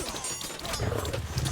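Cavalry hooves in a game battle between Greek armies, a quick patter of clip-clopping steps under faint background clatter.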